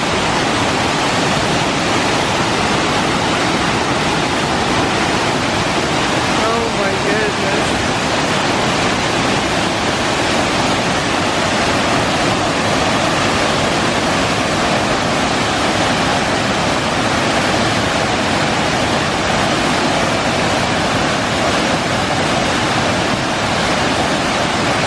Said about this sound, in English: So it looks like the waterfall starts at the top and it goes down, and you can see it coming on.